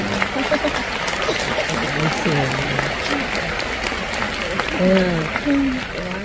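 Concert audience at the Hong Kong Coliseum applauding and cheering for a singer, a broad wash of clapping beneath a host's voice.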